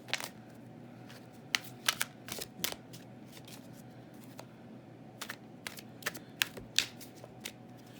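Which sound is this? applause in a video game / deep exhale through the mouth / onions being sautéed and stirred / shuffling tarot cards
shuffling tarot cards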